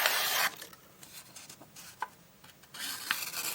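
A Morakniv Woodcarving 120 knife shaves wood in short, close scraping strokes, a dry rasping cut at the start and again near the end, with quieter scrapes in between.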